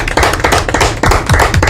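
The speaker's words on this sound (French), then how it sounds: "On peut l'applaudir" Studio audience on a French television talk show claps loudly and close, a dense burst of applause sustained across the short moment.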